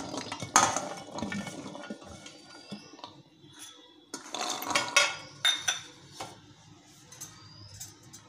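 Peas, carrots, cauliflower and green beans being tipped into a cooking pot for vegetable biryani, with scattered clinks and rattles of metal utensils and a few louder bursts, fairly quiet overall.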